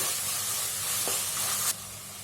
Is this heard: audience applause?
no